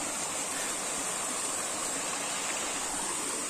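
A clear mountain stream on a hiking trail on Gunung Jobolarangan in Magetan flows with a steady, close, hissing rush of water, even and unbroken throughout, with no voices.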